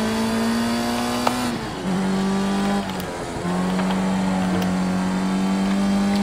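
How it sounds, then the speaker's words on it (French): Racing car engine in Project Cars 2 droning steadily, pitch dropping as the car brakes hard twice with wheels locking, then revving back up; loud and close with no talk. "donc le freinage, les roues se bloquent"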